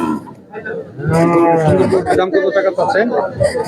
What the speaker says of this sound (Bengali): কত সুন্দর একটি গরু